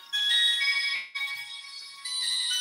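An incoming call rings on a mobile phone as a bright electronic tone, with two short breaks between bursts, close and fairly loud with no talking.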